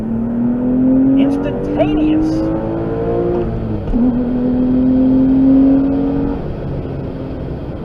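A Porsche 996 engine accelerating with the exhaust closed rises steadily in pitch, shifts once and climbs again, loud and close from inside the car, while someone speaks briefly.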